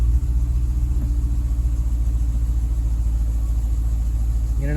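A 2015 Dodge Challenger SRT 392 engine running with the interior gutted and no windshield, giving a loud, steady low rumble with a slightly uneven idle pulse throughout.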